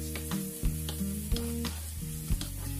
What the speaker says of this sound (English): Drain it first and then saute your corn.